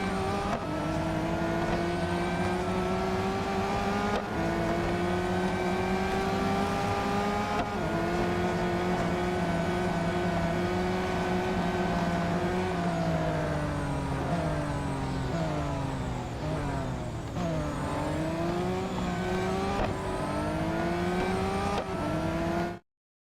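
Race car engines roar continuously in the Real Racing 3 video game, revving and shifting pitch through gear changes for over twenty seconds, loud and close with no talk.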